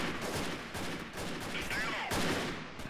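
Bursts of rapid gunfire from Freeman: Guerrilla Warfare crackle in the middle distance, heavy and repeated, with a voice talking faintly beneath the shooting.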